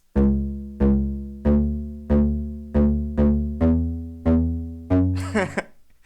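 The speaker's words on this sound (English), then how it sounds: "So I have this nice hard stab here." Hard synth bass stabs, eight punchy notes each decaying quickly in a steady rhythm, ending with a brief noisy burst; loud and alone.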